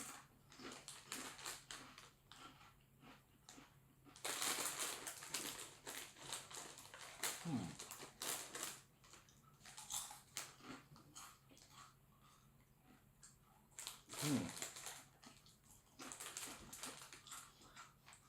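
Skinless crinkle-cut Irish crisps being crunched, with bursts of crinkly chewing and bag rustle coming in irregular clusters, close and fairly quiet, with no talk.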